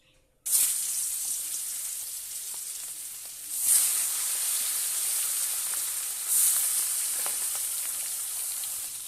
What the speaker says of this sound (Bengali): এবার দিয়ে দেবো কড়ার মধ্যে ভাজতে।